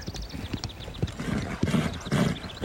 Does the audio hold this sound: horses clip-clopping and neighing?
yes